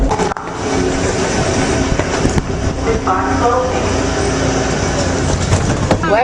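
A Philadelphia subway train rumbles and clatters along the track, a loud continuous ride noise with rattles and a brief squeal, while voices talk faintly over it.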